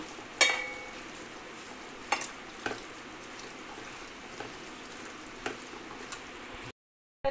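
Mutton being stirred and mixed with Kashmiri chili in a cooking pot, giving a soft continuous sizzle with a few sharp scraping clicks of the spoon, moderately faint, no talking.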